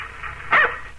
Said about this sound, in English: That's my dog, Tige.